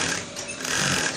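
A sewing machine runs along a trouser leg, a brief, steady close-up mechanical hum with no pauses.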